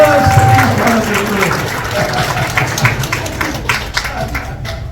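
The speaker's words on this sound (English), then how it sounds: "give his wife, who is also a nurse, Daryl, a big round of applause" An audience at a regional cannabis business event in Miami gives a round of applause, a dense patter of clapping that starts strong and slowly thins out.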